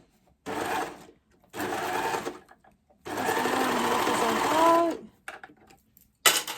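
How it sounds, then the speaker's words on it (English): An overlocker serger stitches along the edge of stretch fabric in three loud, steady whirring runs with short pauses between, the longest lasting about two seconds, close to the machine with no talking. "I line it up with the very edge of my overlocker, this edge here"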